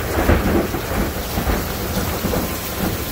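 Deep rolling thunder rumbles through steady heavy rain, loud and close, with no voices.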